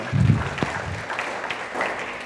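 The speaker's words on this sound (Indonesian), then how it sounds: "Yang setuju berikan tepuk tangan meriah buat Tuhan kita." Congregation applause during a church service, a brief burst of clapping that starts strongly and then thins out into scattered claps and murmuring over a couple of seconds.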